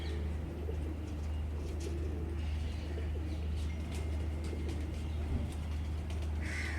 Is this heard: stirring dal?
no